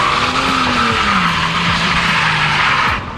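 A Nissan 350Z drifting with tires skidding, a loud sustained squeal that bends in pitch over a steady engine drone for about three seconds before easing off, fairly close and without talk.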